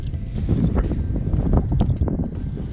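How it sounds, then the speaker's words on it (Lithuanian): Strong wind on the Grossglockner High Alpine Road in the high Alps roars and buffets hard against the microphone in uneven gusts, loud and close, with no voices. "Šitoje vietoje galim pajausti vėjo galią."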